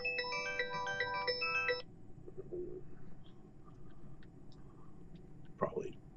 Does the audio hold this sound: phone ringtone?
yes